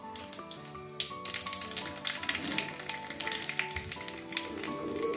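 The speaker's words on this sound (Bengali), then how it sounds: "তেল গরম হয়ে গেছে, একটা ছোট্ট দেখে একটা শুকনো লঙ্কা দিয়ে দিচ্ছি ফোড়নে।" A dried red chili and nigella seeds crackle in hot oil for a Bengali tempering, with a close, busy spitting sizzle that picks up after the first second and continues steadily with light pops.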